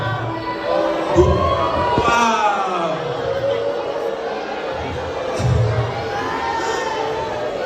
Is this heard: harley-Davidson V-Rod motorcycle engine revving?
no